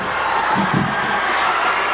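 A packed Philippine basketball arena crowd roars steadily during a San Miguel Beer game, a dense, loud, continuous wash of cheering with no break.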